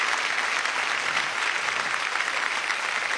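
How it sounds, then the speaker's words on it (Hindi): Audience at a Karva Chauth kavi sammelan poetry event clapping, dense steady applause from a crowd, loud and continuous throughout with no pause. "पत्नी नहीं देखे बस इस हिसाब से ताली बजाओ"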